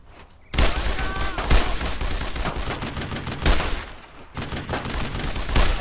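Sustained automatic gunfire in Brothers in Arms: Road to Hill 30, a WWII shooter, with loud, dense bursts of rifle and machine-gun fire that pause briefly and resume, and a shouted voice in between.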